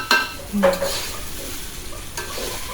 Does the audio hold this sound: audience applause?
no